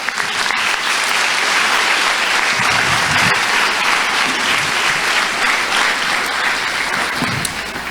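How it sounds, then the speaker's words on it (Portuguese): A church congregation applauds in a long, steady burst of many hands, loud and full, with a few sharper claps and low murmurs underneath before it tapers at the end. "Você pode aplaudir o Senhor?"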